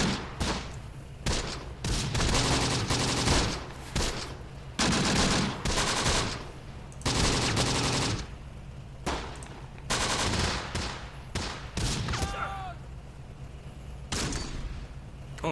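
Bursts of machine-gun and rifle fire crackle repeatedly in a WW2 North Africa battle in the Close Combat video game, loud, dense volleys with short pauses between them and no talk.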